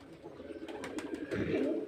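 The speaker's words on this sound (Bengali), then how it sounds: "এই যে পায়রা দেখতে পাচ্ছেন" Soft, low cooing of Giribaz pigeons at a pigeon sale in Murshidabad repeats throughout, growing fuller toward the end, with faint chirps above.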